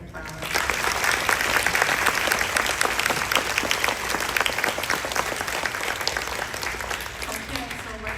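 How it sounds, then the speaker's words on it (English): A symposium audience applauds after a powerful performance by a keynote speaker and his partner, dense sustained clapping filling the room for several seconds and easing slightly toward the end. "Everybody, let's give them another round of applause."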